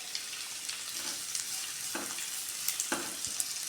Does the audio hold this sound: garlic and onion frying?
yes